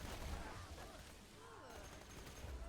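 A sniper rifle shot in the video game Borderlands: a quiet, muffled report with a low rumbling tail, set in a dim background of game noise.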